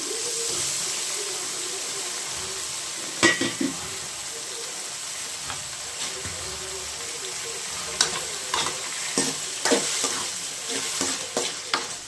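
Finely chopped tomatoes fry in a pan with ginger garlic paste, a steady hissing sizzle broken by clusters of spoon scrapes and clinks against the pan, close and moderately loud.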